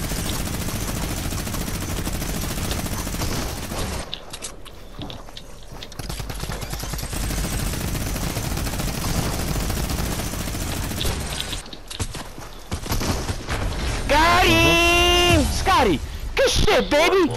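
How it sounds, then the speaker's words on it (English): Machine gun fire in a video game hammers in long, loud, rapid bursts that pause briefly and resume, mixed with excited shouting and voices over the shooting. "Machine gun do some work, boy!"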